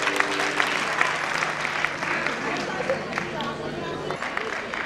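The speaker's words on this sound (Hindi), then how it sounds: "इन बच्चों के लिए जोरदार ताली बजा के स्वागत करेंगे।" Audience clapping loudly for children at a trust event in an Indian hall, a dense, sustained applause close to the listener that carries evenly for several seconds with a faint steady tone beneath.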